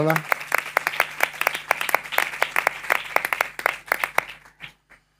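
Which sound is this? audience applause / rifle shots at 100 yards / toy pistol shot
audience applause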